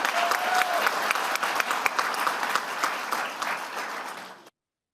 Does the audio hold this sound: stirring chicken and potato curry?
no